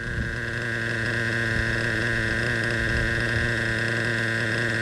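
A Traxxas Revo 3.3 nitro RC engine idles steadily nearby, a constant buzzing, droning putter with even rhythm and no voices.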